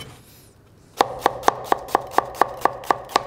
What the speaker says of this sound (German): können wir schon mal die Zwiebel in feine Würfel schneiden